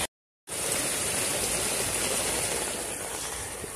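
Steady, dense rain pours down outdoors in a continuous loud hiss after a brief silent gap at the very start, unbroken and without talk.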